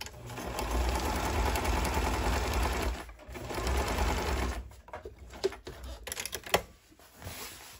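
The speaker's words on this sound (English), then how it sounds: "when I get to my points where I pivot, I always use my hand wheel to not overshoot my turn and sewing." A sewing machine stitches around a banana leaf placemat, humming steadily for about three seconds, then stopping and starting in short bursts with a few clicks as the hand wheel is turned at the pivot points.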